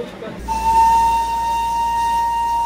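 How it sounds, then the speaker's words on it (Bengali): A Darjeeling steam toy train sounds one long, loud, steady whistle blast close by, starting half a second in and holding to the end over a low hiss. "ট্রেন বার কয়েক হুইসেল দিল"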